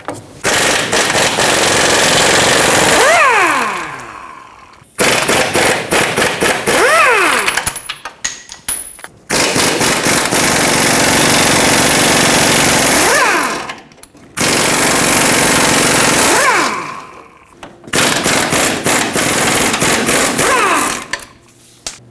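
Pneumatic impact wrench removing 18mm frame mounting bolts and 21mm nuts on a 2011-2016 Ford F-350 pitman arm bracket: four long, loud hammering bursts that wind down with a falling whine, separated by brief pauses.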